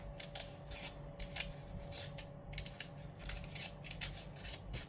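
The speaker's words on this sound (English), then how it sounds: "I am going to see what happens if I try and cut out this circle" Scissors snipping around a paper circle for a planner, a quiet series of short crisp cuts in an uneven rhythm, close up over a faint steady background hum, no talking.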